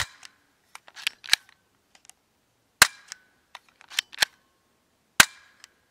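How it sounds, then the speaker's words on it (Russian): Several sharp, fairly quiet pops of an Air Sport Gun K-118 Metal Edition air pistol spaced a few seconds apart, mixed with small mechanical clicks between shots. "Перезаряжается очень легко и звук выстрела не очень громкий."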